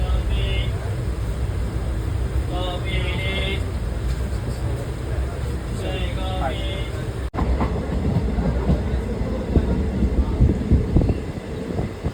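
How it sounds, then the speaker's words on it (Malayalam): Rumbling train noise with rattling carriages and brief high squeals as it slows arriving at Tanur station, with people talking nearby throughout. "നമ്മളെ ട്രെയിൻ താനൂരെത്തി താനൂർ സ്റ്റേഷനാണ്"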